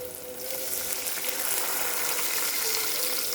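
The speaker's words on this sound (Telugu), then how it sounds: "ఇప్పుడు నేను వాటర్ పోస్తున్నాను." Water is poured steadily into a pan for upma, two glasses for one of semolina, giving a continuous rushing splash that holds for several seconds without talk.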